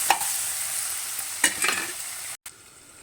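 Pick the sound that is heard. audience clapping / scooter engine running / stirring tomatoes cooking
stirring tomatoes cooking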